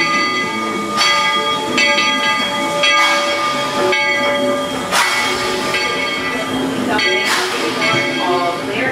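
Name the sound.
Walt Disney World Railroad train arriving at station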